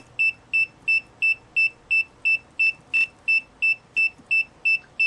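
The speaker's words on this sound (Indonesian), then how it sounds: "kalau ada suaranya berarti buzzer sudah oke." A homemade battery level monitor's buzzer beeps in a steady, rapid rhythm, about fourteen sharp identical tones in five seconds, loud and close over a quiet background.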